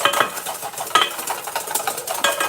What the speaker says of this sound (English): show me how you whisk